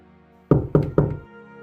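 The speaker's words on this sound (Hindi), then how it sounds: "सूरज के घर के दरवाजे पर फिर से खटखट हुई।" Three firm knocks land on a wooden door in a cartoon story, evenly spaced and close, loud hollow thuds followed by quiet background music.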